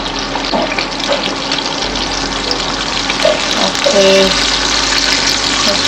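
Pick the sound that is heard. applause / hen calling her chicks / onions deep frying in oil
onions deep frying in oil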